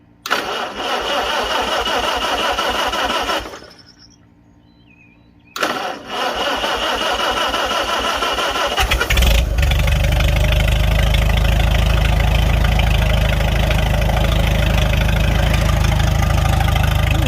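A Farmall 300 Row Crop tractor engine with a newly replaced exhaust manifold cranks briefly, cuts out, cranks again and catches, then settles into a loud, steady low rumbling idle close by.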